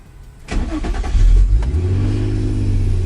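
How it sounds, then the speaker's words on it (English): A car passes by on the street, its engine swelling suddenly from quiet to a loud, close rumbling roar that stays strong as it goes by. "Of course a car has to pass by at the same time."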